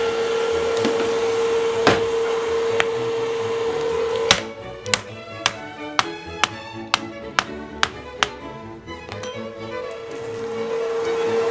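A run of sharp, evenly spaced knocks, about eight blows in quick succession, following a few scattered taps over a steady background hum.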